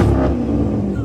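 A car engine roars loudly and close, revving with a deep, steady rumble throughout the short moment.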